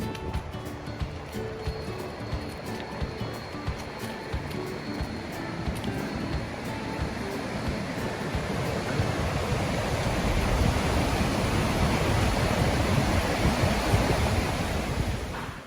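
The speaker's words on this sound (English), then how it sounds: "listen and watch that fast flowing water as it heads down" The fast-flowing Petawawa River rushes beneath a trail bridge in a steady, dense roar, loud and continuous with some wind buffeting, swelling slightly toward the end.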